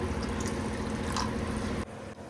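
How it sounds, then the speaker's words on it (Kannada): Water poured into rava dosa batter, a steady close pouring and filling sound that runs continuously before cutting off abruptly near the end. "ಒಂದು ಅರ್ಧ ಗ್ಲಾಸಸ್ ನೀರು ಹಾಕಿದ್ರೆ ಸಾಕಾಗುತ್ತೆ"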